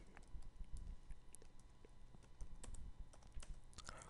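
Keys clatter in quick irregular bursts as commands are typed on a computer keyboard while a bootable USB drive is being set up, close and fairly quiet with no voices.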